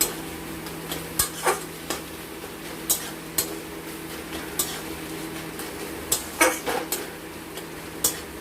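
Jute leaves stirred in a pan, with a spatula scraping and tapping the metal in scattered sharp knocks over a soft low sizzle.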